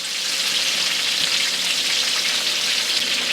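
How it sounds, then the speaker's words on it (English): Mushrooms sauté in a pan with a dense, even sizzle close by, loud and steady with no talking over it. "after we let the mushrooms saute a little bit"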